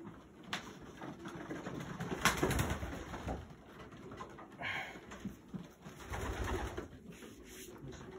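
Pigeons coo softly in low, rolling murmurs, several birds overlapping at a moderate distance, with faint rustling and no talking.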